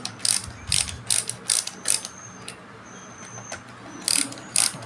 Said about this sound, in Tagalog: yon ang malaking difference ng ratchet screwdriver sa pangkaraniwang screwdriver